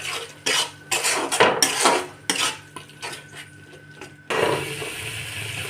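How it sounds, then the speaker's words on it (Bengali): A spoon scrapes and clinks against a pan while stirring a small rohu fish curry made with mustard paste, chili, ginger and garlic, with irregular metallic knocks followed by a steady sizzling hiss. "এবার ভালো করে নাড়ব।"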